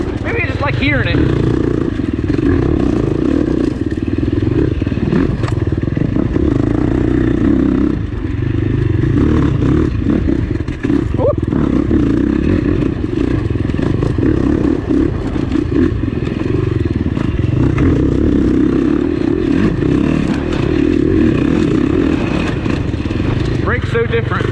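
A 2021 KTM 300 XCW two-stroke dirt bike is ridden, its engine a loud raspy drone with throttle swells and clattering over rough ground, a rider talking over it throughout.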